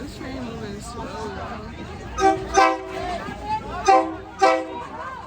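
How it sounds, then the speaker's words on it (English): A slow-moving train passes through the Maeklong Railway Market in Thailand, sounding its horn in four short toots that come in pairs. Chatter and voices run underneath. "This train moving slow"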